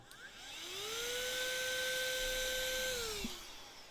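A person imitates a small desk vacuum with their voice, a whine that rises, holds steady for a couple of seconds, then falls away, fairly quiet and close with no other talking.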